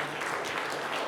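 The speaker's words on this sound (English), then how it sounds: "give that a round of applause" Sustained audience applause at a business talk, a dense, even wash of clapping hands that continues without a break.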